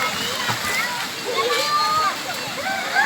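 Cold, clear spring water splashes and sloshes close by as someone swims with a swim ring. The splashing is fairly loud and continuous, with people talking and calling out over it.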